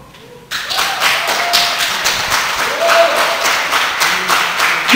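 A church congregation bursts into applause after a brief quiet moment, with dense sustained clapping from many hands that continues evenly to the end.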